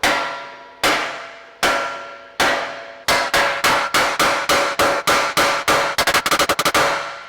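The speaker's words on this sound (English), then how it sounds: "the other person is going to hit this with a hammer" Loud metallic hammer blows ringing on steel as a ball joint is knocked from the hub of a Honda Ridgeline, a few spaced strikes at first, then a steady run of hits speeding into a fast burst at the end.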